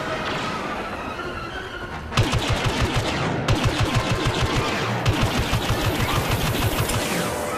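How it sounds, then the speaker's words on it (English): Gunfire in the Star Wars Battlefront game, with a low rumble of battle first and then loud, rapid automatic blaster bursts that repeat in fast rhythmic strings for several seconds. "Someone's shooting at me."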